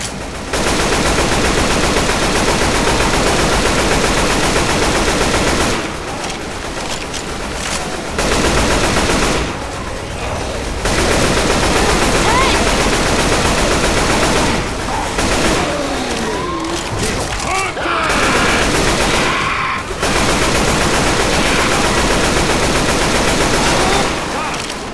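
Rapid automatic gunfire from the Left 4 Dead 2 survival mode in a church map, loud sustained bursts broken by short gaps, with a voice occasionally heard beneath the shooting.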